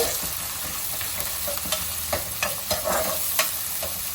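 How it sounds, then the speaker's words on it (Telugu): Sliced onions, chilli and curry leaves frying in a pan for mutton curry, a steady close sizzle broken by several sharp scraping stir strokes, no voices. "ఒకసారి కలిపేసుకుందాం."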